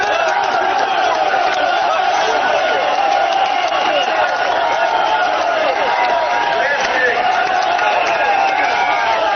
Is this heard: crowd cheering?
yes